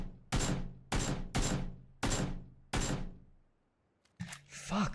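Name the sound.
gunshots in the video game PUBG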